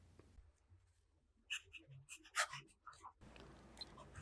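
A Lamy Safari fountain pen with a 1.1 stub nib scratches across a reporter pad, soft intermittent strokes and scrapes close up in a quiet room.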